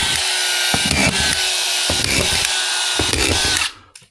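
A power drill whirs steadily while screws are driven into drywall, with several short bursts of grinding as each bites, then it stops abruptly.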